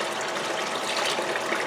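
Water gushes fast and steady through a gold sluice table, a loud, continuous rushing wash close up, with no talk.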